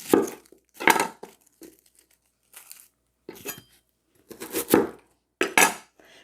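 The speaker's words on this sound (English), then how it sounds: "Not going to cut up the onions except for cut them in half because I have to get the skins off" Onions halved on a cutting board and their papery skins pulled off while making homemade salsa, a series of short dry crackles, knife taps and crinkles in separate bursts with quiet gaps, close and fairly soft.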